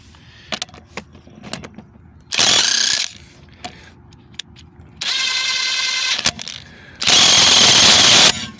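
A Seesii WH710 impact wrench works loose rusted lug nuts in three loud, sustained hammering bursts of about a second each, separated by quieter handling clicks and clatter.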